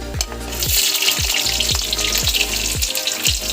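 Onions frying in hot oil in a pan for egg bhurji, a steady loud sizzle with rhythmic scraping strokes of a spatula about every half second, no voices.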